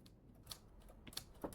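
Keyboard typing in a quiet office, a few sparse, soft keystrokes spaced irregularly, fairly faint and close with no voices.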